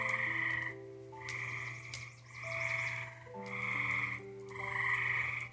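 Frogs croak at dusk near an outdoor wood-fire cooking spot in a steady, rhythmic chorus of repeated pulsing calls. The chorus swells and fades in regular waves and is heard alone without talk.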